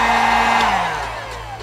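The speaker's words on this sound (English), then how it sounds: "you need the heat gun" A heat gun blows hot air while decals go onto the wheels of a Toyota MK5 Supra, a close, steady whooshing roar with a motor whine that drops in pitch as it winds down.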